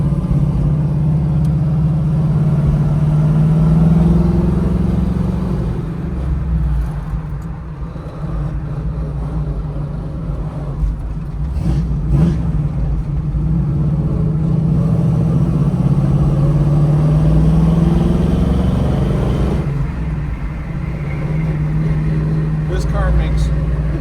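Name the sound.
1978 Pontiac Trans Am engine, exhaust and gearbox while driving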